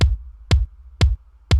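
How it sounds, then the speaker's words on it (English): Four punchy kick drum hits from a dance pop beat built in FL Studio, evenly spaced about half a second apart, deep and loud with no other sound between them. "Now for the drums. I have a kick right here."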